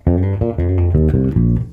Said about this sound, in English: Next we play a solo bass fill that sounds like this